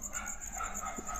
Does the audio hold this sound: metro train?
no